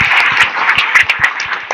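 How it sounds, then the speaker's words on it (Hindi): Hall audience at a spiritual gathering claps loudly for the event volunteers, a close burst of uneven claps that stays strong before tapering into scattered hits. "एक बार सभी कार्यकर्ताओं के लिए जोरदार ताली बजा करके"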